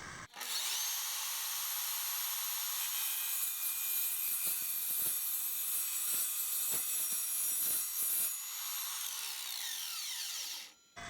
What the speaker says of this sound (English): I'll cut a couple of strips off this piece of tubing and see how that works out